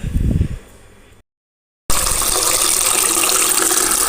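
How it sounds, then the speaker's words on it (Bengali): Stored kitchen containers are washed under running tap water. A brief splash and handling noise comes first, then a short silence, and then a loud, steady gush of water pours continuously. "ভাবলাম ধুয়ে নিই তো এখন এগুলোকে ধোবো"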